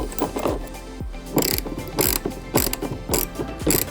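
A ratchet wrench clicks in quick, close bursts while tightening the bolts of a car's pillar bar bracket. Several separate rounds of rapid clicking come with brief pauses between strokes.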